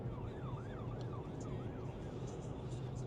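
The siren of an unmarked white Ford emergency vehicle wails in a repeating rising and falling pattern as it passes, heard from inside a car over a steady road rumble.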